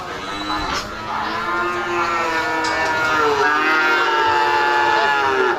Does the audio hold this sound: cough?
no